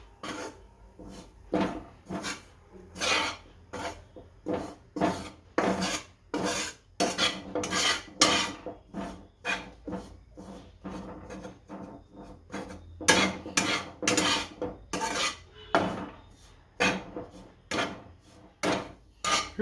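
Gram flour roasts in a pan while a spoon stirs it, making a long run of rhythmic dry rasping strokes that rise and fall in quick bursts, close and clear, with no talking.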